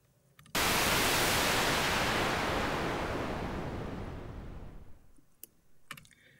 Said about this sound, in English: if I play this white noise sound that I've made and change the cutoff, the higher frequencies will be filtered out